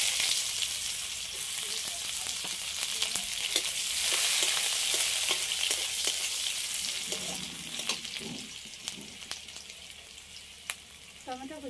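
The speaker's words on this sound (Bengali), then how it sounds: "ফোড়নের রাঁধুনি দিচ্ছি, অল্প করে পেঁয়াজ কুচি" Radhuni seeds and chopped onion dropped into hot oil for a Bengali fish and taro dish, giving a loud, steady sizzle close by that fades slightly, with light stirring clinks near the end.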